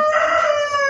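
Close, loud crowing from a farmyard rooster fills the whole moment, a single sustained call with no voices over it.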